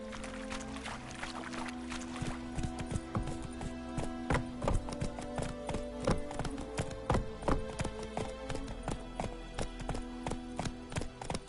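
Roach, a horse in The Witcher 3, gallops in a steady rhythmic clip-clop of hooves that sounds close and prominent over a continuous game backdrop, with no talking.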